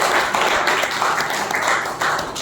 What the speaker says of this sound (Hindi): तो उसके लिए जोरदार तालियां आपके लिए बजाइए